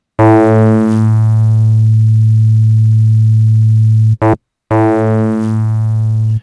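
A loud, sustained buzzy FM synth tone shaped by a 'Get Fuzzy' wave shaper drones with a harsh distorted edge, stopping briefly before the same fuzzy note returns.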